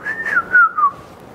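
A person whistles alone, a short clear tune of several notes stepping downward in a brief rhythmic phrase, close and fairly loud.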